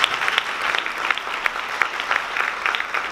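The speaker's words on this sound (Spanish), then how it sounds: "Pueden aplaudir." A seated audience at a summit event breaks into continuous applause, a dense even patter of many hands clapping throughout the hall.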